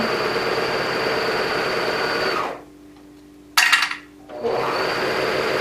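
A sewing machine stitches fabric with a steady, loud mechanical whir. It stops for about a second, gives a short burst, then runs on continuously again.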